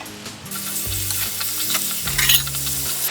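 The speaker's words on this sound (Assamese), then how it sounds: "আৰু এতিয়া ইমানখিনি টাইমতে মই ইয়াতে বিলাহীখিনিও এড কৰি দিম।" Tomatoes added to paneer masala frying in a pan, a loud continuous sizzle with stirring scrapes, close up and without voices.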